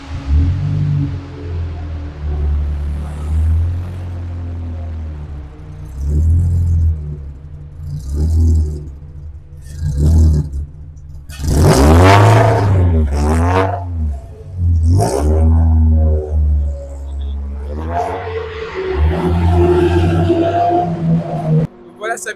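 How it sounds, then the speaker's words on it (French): A Peugeot 206 pulls away on the Le Mans circuit, its engine rumbling and revving up through several surges, loud and close, with people talking over it at times. "Voilà, Samuel est parti faire un tour dans la 206."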